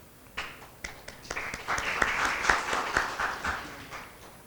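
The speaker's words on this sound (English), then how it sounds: "Another round of applause, please." Audience applause after a presentation at a business exchange session, starting with a few scattered claps that quickly build into fuller, moderately loud clapping before tapering slightly.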